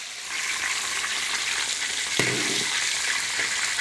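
Crucian carp sizzles steadily in a hot oiled, lightly salted pan, a continuous bright frying hiss with a sharper crackling burst partway through as the fish settles in.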